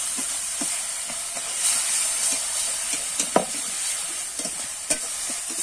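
Masala being stirred and fried in oil for a tangra fish curry with cauliflower and potato, a steady close sizzle and hiss with scattered scraping clicks of the spoon against the pan.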